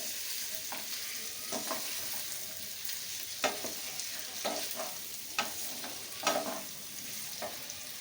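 A farali dosa mixture with green chillies sizzles softly in a pan while a spoon scrapes and stirs it in scattered clinks, close and fairly quiet, with no voices.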